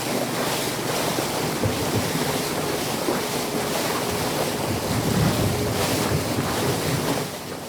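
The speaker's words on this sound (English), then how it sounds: "a restless storm pummels the Pacific" Heavy surf and roaring wind blend into a dense, continuous wash of video game storm noise on the Pacific, loud and unbroken, with gusts swelling and ebbing.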